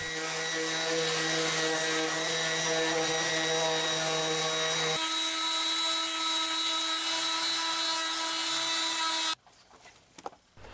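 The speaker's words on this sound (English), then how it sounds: "I then used my random orbital sander to finish it off so it had a nice smooth finish." A random orbital sander smooths a wooden axe handle for a vintage Brades axe, a loud steady whine with strong tonal hum that changes pitch midway, then cuts off to quiet shop handling sounds near the end.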